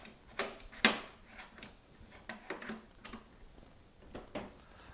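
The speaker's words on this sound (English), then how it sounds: "All right, I'm going to put my drip tray back in." Plastic drip tray of a Joy Pebble countertop ice maker being slid back into place, giving a loud click near the start followed by several lighter scattered clacks and taps.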